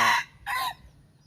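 Chickens heard up close in two loud separate bursts, a clucking call followed by a shorter crowing cry, with quiet between them and no voices.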